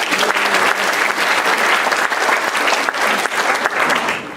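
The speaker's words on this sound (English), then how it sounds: "let's give ESCOM a round of applause" An audience at a lecture event gives a sustained round of applause, loud and continuous clapping from many hands filling the hall.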